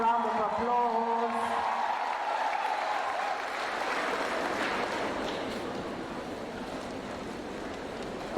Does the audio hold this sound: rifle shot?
no